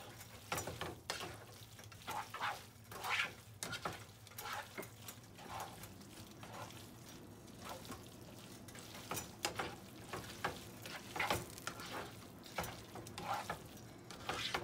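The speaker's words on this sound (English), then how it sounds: "you just do some tossing here and it's gonna continue to emulsify the tomato and" Spaghetti with tomato and olive oil tossed in a hot pan, a close sizzle with repeated bursts of scraping and sloshing as the pasta is flipped, fairly even rhythm throughout.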